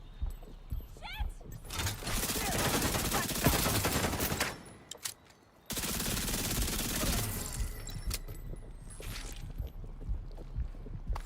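Backfire rifle fire in The Division 2: dense bursts of loud rapid shots for a few seconds, a brief pause, then another long burst, with someone talking throughout.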